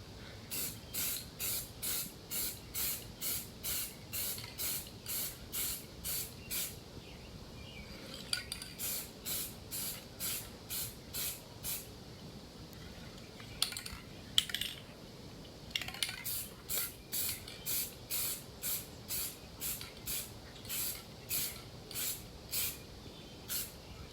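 A spray can hisses in short, regular bursts while painting 1985 GMC Sierra door panels, pausing briefly now and then before the rhythmic spraying resumes, with a few faint clinks in between.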